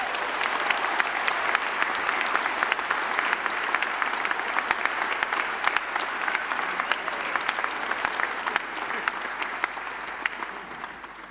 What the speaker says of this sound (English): Can you just join in giving one more huge round of applause for Shorty?